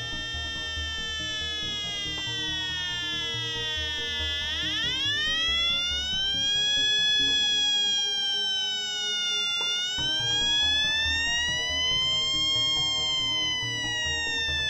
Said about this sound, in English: The audio signal and the trending indication in the hand probe guides us to the leak origin